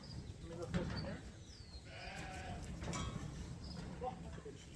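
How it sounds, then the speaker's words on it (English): Sheep and lambs being sorted for market bleat several times in a pen, with shuffling, knocking sounds and low voices in the background. "Oh, that's a big sheep there."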